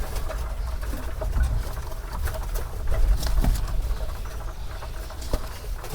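Pigeons at a pigeon farm give low coos amid pattering and scuffling of feet and wings, a busy steady texture close by with no talking.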